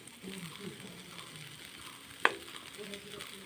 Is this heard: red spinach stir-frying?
yes